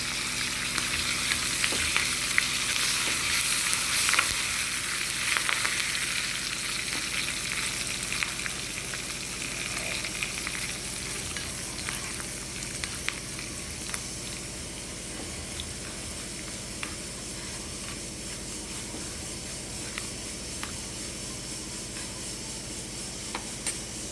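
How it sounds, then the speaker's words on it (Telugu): A tempering of asafoetida, curry leaves and peanuts sizzles in hot oil, a steady close crackling and hissing with scattered pops throughout. "చెక్క పప్పులన్నీ ఎర్రగా వేగనివ్వండి"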